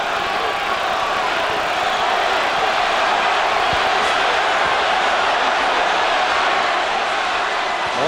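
Dense, steady roar of a large arena boxing crowd cheering through the Tommy Morrison vs. George Foreman fight, loud and continuous from start to finish, with no clear voices on top.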